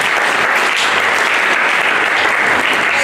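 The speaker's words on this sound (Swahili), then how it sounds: "Tupigieni Mungu makofi." A church congregation breaks into dense, sustained applause, many hands clapping loudly and evenly for the whole stretch with no talking.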